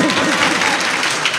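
Audience at an all-India Urdu poetry mushaira in Mominpura, Nagpur, clapping in a dense, loud burst of applause, with voices murmuring underneath.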